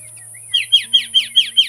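A sooty-headed bulbul chirps six times in a quick, evenly spaced series of bright, clear notes, close and loud, in a quiet rural village setting.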